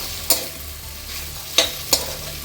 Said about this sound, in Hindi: जब ये आवाज़ बंद हो जाएगी ना इसके अंदर सुर सुर सुर वाली, फिर इसके अंदर डाल देंगे नमक हल्दी वगैरह